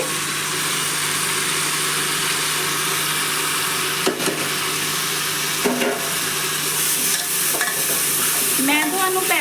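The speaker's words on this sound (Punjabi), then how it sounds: "ਬਸ ਥੋੜਾ ਜਿਹਾ ਸੇਕ ਲੱਗ ਜਾਵੇ ਲਸਣ ਨੂੰ ਇੱਕ ਮਿੰਟ ਲਸਣ ਭੁੰਨਣ ਤੋਂ ਬਾਅਦ ਇਹਦੇ ਵਿੱਚ ਪਾ ਦੇਵਾਂਗੇ" Garlic frying in a pan for an aloo matar curry, a steady loud sizzle with occasional stirring scrapes throughout.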